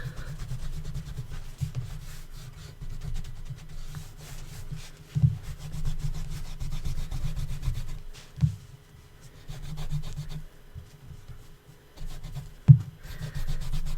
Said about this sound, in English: before rubbing an eraser across it